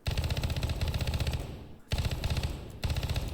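Automatic fire from an XM7 rifle with its stock folded in the tactical shooter game Ground Branch, two sustained rapid bursts separated by a short pause, loud and close with no talking.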